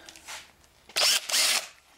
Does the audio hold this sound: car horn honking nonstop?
no